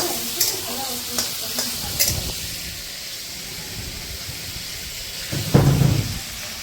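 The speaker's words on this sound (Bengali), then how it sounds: "এই কড়া করে ভাজা হবে না অল্প করে ভাজা হবে?" Food frying in a pan while being stirred, with a few scraping strokes early on, a quieter sizzling stretch in the middle and a louder hissing sizzle near the end.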